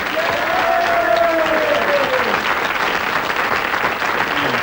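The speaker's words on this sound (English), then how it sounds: "So, a big round of applause again," Studio audience applauding a contestant on a quiz programme, a loud steady wash of clapping with a faint whistle-like tone gliding through the middle, continuing without pause.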